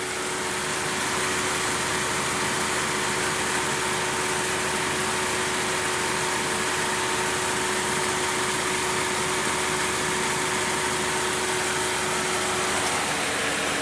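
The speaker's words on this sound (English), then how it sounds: "The compressor, I have not heard it cycling, so it's just running constantly." Steady mechanical hum of a 2005 Chrysler Town & Country's engine idling with the air-conditioning compressor running continuously, never cycling, broad and unchanging throughout, with a faint tonal whine.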